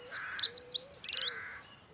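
Songbird sings a short series of clear high chirps and trills, close and fairly loud, with a brief pause before a final rapid trill and chirp.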